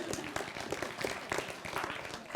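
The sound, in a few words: audience applause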